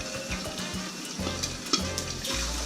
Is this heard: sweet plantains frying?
yes